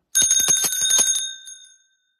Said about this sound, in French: La cloche sert à clocher.